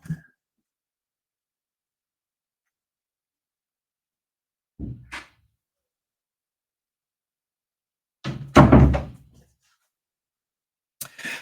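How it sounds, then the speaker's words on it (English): A door in a house bangs in a draft, making a few dull knocks and a heavier double thud separated by long stretches of silence. "There's a draft in the house and it's banging that door."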